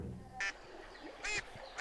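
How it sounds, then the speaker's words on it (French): Three loud, nasal duck quacks spaced roughly a second apart, standing out over a quiet outdoor background. "Oh, les canards!"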